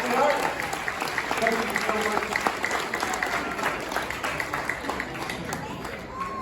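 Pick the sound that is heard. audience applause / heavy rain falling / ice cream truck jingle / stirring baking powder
audience applause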